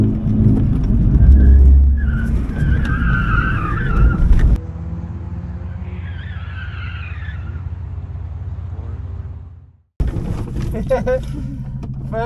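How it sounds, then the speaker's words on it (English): A modified Ford Figo skids into a spin-out on a track with cold tyres: a loud, close engine roar and tyre scrub, then a sustained whine that fades, cuts out and returns abruptly. "First spin out."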